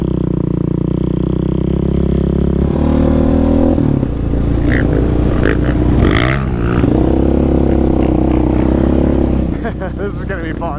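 Yamaha YFZ and Honda TRX ATVs riding together on a dusty trail, engines droning and revving steadily and loud throughout, with clattering bumps and rising throttle bursts near the middle.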